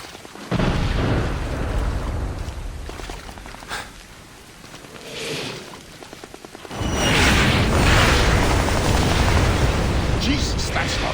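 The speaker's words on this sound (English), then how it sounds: "Sounded like Katyushas." Heavy Katyusha rocket explosions in the Splinter Cell Blacklist video game, a loud sustained roar of blasts and rumbling debris that erupts in the second half, with game dialogue under the opening.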